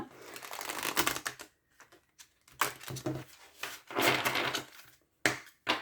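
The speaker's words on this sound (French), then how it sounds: "Je vais battre un petit peu les cartes." Oracle cards being shuffled by hand in bursts of brisk riffling and shuffling with short pauses between, close and fairly quiet.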